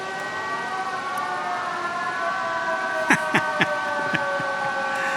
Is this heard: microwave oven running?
no